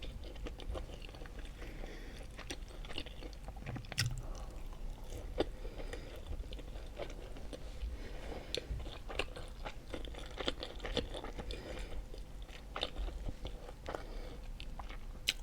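Close, quiet chewing of homemade manti dumplings: soft bites, wet squishy mastication and occasional small crunchy clicks repeat steadily for about fifteen seconds with no talking.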